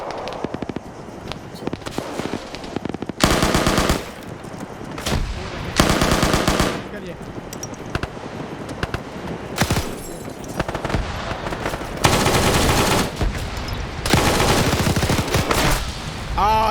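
Heavy automatic gunfire in an Arma military shooter: long sustained machine-gun bursts with scattered single shots, loud and close, repeating in several bursts with brief lulls between them.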